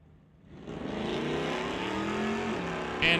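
At a drag race, a Ford Mustang and a Plymouth launch and roar down the strip, engine noise swelling from quiet to a loud sustained rising drone, close and without talk.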